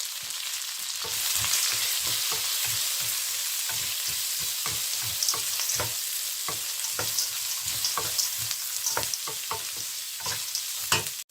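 Chopped onions sauté in hot oil in a pan for tomato rice, sizzling steadily while a spoon scrapes and stirs in quick, repeated strokes close by.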